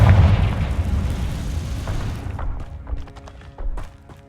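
A Confringo spell bursts in Hogwarts Legacy with a heavy booming explosion, then a rumbling decay and scattered smaller pops and clicks as it fades.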